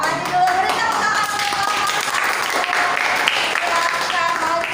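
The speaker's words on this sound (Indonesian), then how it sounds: "beri tepuk tangan" A classroom of students claps steadily as a group comes forward to the front, the dense applause mixed with voices talking over it.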